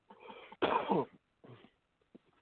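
A person clears their throat in a few short rough bursts, one loud and harsh, followed by quieter gruff grunts, close to the listener.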